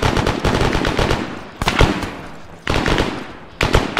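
Machine gun fire in the video game ArmA 3, loud close bursts of rapid automatic shots separated by brief pauses, with a final burst starting near the end.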